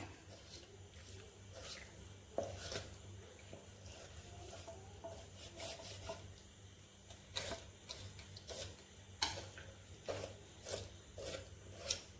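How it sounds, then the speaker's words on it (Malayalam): A knife scores raw chicken pieces on a board, producing soft, irregular scraping and rasping strokes with occasional sharper ticks, quiet and close over a low background hum, without speech. "ചിക്കൻ നമുക്ക് വരഞ്ഞു കൊടുക്കാം"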